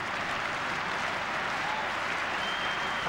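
A stadium crowd of Paraguayan supporters claps and cheers steadily at an Olympic gold medal football match between Argentina and Paraguay, a dense, continuous roar of applause filling the air.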